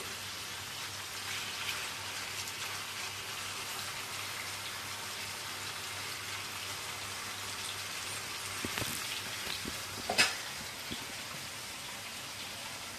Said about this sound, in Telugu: మసాలా అంతా వేసేసి చక్కగా ఇలా చదివేసి మీడియం ఫ్లేమ్లో అండి ఆయిల్లో మగ్గనివ్వాలి